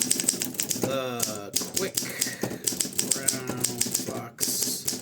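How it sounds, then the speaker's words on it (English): Olympia SM3 manual typewriter from 1955, keys struck in quick irregular bursts with clacks close by, heard under someone talking throughout. "Of course, I'm typing nonsense right now."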